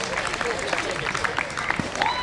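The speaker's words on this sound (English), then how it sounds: "Start clapping right now." An audience at an outdoor Pride Day event claps lightly and unevenly for a short stretch, faint scattered hand claps mixed with background crowd murmur.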